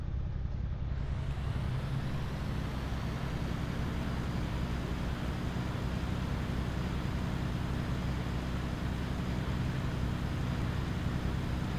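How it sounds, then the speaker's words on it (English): Simulated jet ski engine with water sounds in an Unreal Engine demo, a continuous steady motor drone with broad rushing water noise, constant and unbroken. "Interactive sound system includes engine employment sound, static, engine sound, dynamic, affected by watercraft speed."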